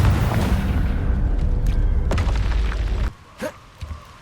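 A Confringo spell blast in a Harry Potter video game bursts into a loud, deep booming explosion that rumbles for about three seconds, then cuts off, leaving a couple of faint whooshing tails.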